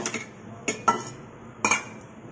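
Ice goes into a mango shake with a few sharp clinks and knocks against the container, three or four quick taps spread over two seconds in a quiet room.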